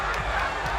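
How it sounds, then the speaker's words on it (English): A UFC crowd roaring for Damian Maia after a rear naked choke, a brief dense burst of arena cheering at full volume. "the crowd going crazy here for Damian Maia"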